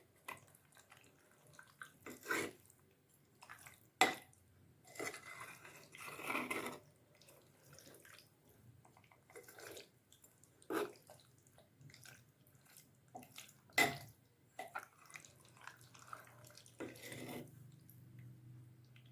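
Mango pickle being mixed in a pot, giving quiet wet squelches and scattered short sloshing bursts spaced irregularly across a hushed background.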